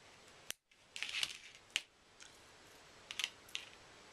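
Wire snipped while trimming excess from a beaded dragonfly angel ornament: a few sharp, isolated clicks and snaps spaced over a few seconds, close and faint, with no talking.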